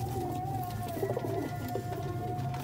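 Sialkoti pigeons coo in a steady, low, throaty murmur, several birds close together with continuous soft burbling calls over a constant background hum.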